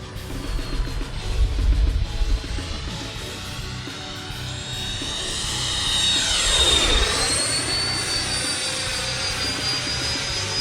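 An RC model jet flies past in a loud, steady turbine whine that sweeps down in pitch and then climbs again as it passes close, with no talking.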